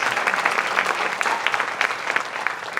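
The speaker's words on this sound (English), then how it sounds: "big applause for that" Audience applause for a runner's 8th place finish in Paris, steady and close with dense clapping throughout, no talk over it.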